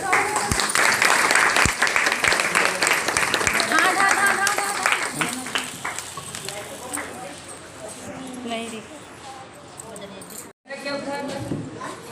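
An audience claps hands at a women's day honour ceremony, a dense patter of applause that is loud at first, then thins out and continues more sparsely, with voices mixed in throughout.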